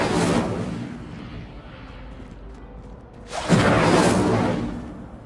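Two bursts of the Incendio fire spell in the Hogwarts Legacy video game, each a loud whooshing flare of flame, the second bigger and longer, separated by a quieter stretch of low rumble.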